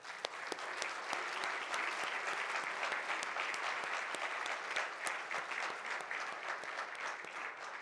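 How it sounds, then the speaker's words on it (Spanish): A church congregation applauds steadily, a dense wash of many hands clapping together, heard from within the room for several seconds with no one speaking over it. "Un aplauso a nuestro Dios."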